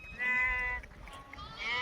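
A young lamb bleats close by, one wavering bleat followed by a shorter second call, over quiet outdoor farm background.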